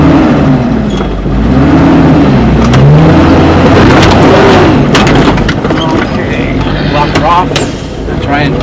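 Off-road vehicle engine revving and straining as it climbs a rock trail on Poison Spider in Moab, rising and falling under close, loud talk from the driver and a spotter.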